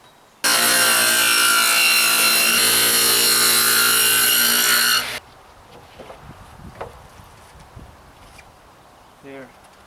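A table saw cuts a 3/4-inch dado groove in wood for a garden box lid. It lets out a loud, sustained, harmonic-rich roar for about five seconds, then stops abruptly, leaving quiet scattered handling clicks.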